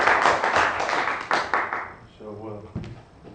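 An audience claps after a conference presentation on NXT, a dense burst that fades after a couple of seconds into a man's speech.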